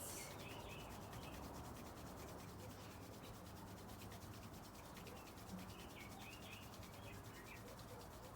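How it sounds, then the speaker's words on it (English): Hands rubbing together vigorously, a continuous close-up dry friction hiss held at an even level for several seconds, with no talking. "Draw the hands together and start to vigorously rub the hands, building up a bit of fire, a bit of heat."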